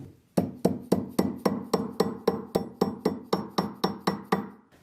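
A metal knot ring is tapped with a hammer to shape it, about fourteen sharp, evenly spaced metallic strikes ringing close by, each decaying before the next.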